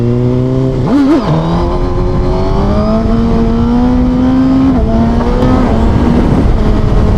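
A Suzuki GSX-R1000 motorcycle engine with a larger straight-through exhaust revs loud and close, its note rising and falling through several blips over a continuous rough drone.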